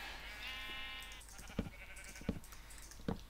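Sheep bleat in a video game, a sustained wavering bleat with a few short thumps and clicks after it.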